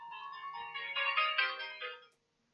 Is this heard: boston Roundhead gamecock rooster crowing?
no